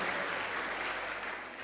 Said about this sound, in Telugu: గట్టిగా చప్పట్లు కొట్టి వందనాలు తెలియజేద్దాం